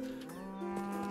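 Cows moo in a medieval-themed top-down video game, a single loud, sustained low moo close by that holds steady and then rises slightly near the end.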